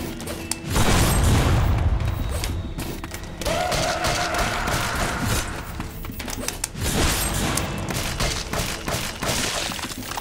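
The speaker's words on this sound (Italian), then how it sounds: "Ma questo è pieno di botti che esplodono, dannazione" Explosions and loud booming blasts in the horror video game A Bloody Night, a heavy low rumbling burst early on, then continued crackling bangs and thuds with another surge near the end, loud and dense throughout.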